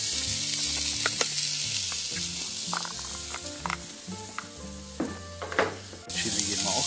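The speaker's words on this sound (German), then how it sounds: "Jetzt schwitzen wir die Zwiebeln. Und den Knoblauch an." Onions and garlic sweat in a Dutch oven, a bright continuous sizzle with scattered scraping stirs, under background music and occasional faint voices.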